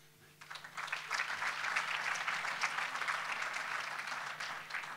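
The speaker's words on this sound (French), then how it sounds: "Et encore une fois, ça s'applaudit aussi." Sustained audience applause rises quickly after a quiet start and continues as a steady, dense wash of clapping from a crowd at moderate distance.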